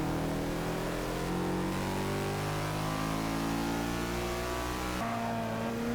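In Forza 6, a Porsche 718 RS engine climbs through the revs with rising harmonic tones, dips briefly at a gear change, then surges again, loud and continuous with no talk.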